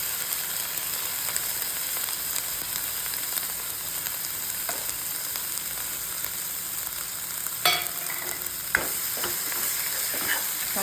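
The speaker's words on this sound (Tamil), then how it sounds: "தக்காளியும் போட்டு தக்காளி நல்லா வதங்கணும்." Tomato and onion frying in a pan for a hotel-style egg gravy give a steady close sizzle, with spoon stirring and a few sharp scraping clicks against the pan. No one speaks.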